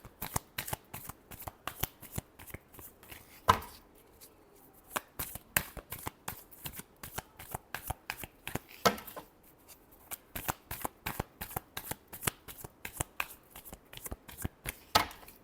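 Tarot cards being shuffled in a steady run of crisp riffling bursts, close and fairly loud, with two brief pauses between the rapid flurries and no voices.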